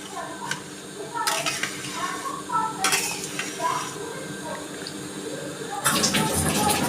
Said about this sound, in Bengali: আমি টকটা ঢেলে দিলাম দিয়ে সাথে সাথে একটু নাড়া দিতে হবে না হলে অনেক সময় দলা বেঁধে যায়